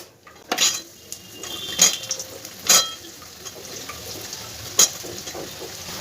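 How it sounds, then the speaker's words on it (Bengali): Potatoes go into a hot pan of cumin tempering for a vegetarian mixed-vegetable dish, with a few sharp clinks of a metal utensil against the pan spaced out over a faint, steady background hiss. "আগে আমি আলুটা দিয়ে দিলাম"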